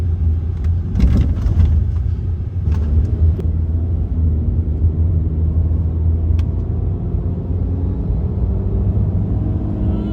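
A modified 2013 Skoda Rapid car engine and exhaust rumble low and steady throughout, a heavy continuous drone with a few faint clicks early on.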